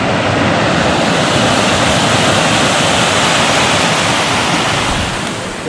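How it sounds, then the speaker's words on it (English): Loud, steady rushing of river water at a river crossing along a bike ride near Southampton, England, a dense continuous roar filling the whole stretch with no talking. "this river crossing is a bit noisier."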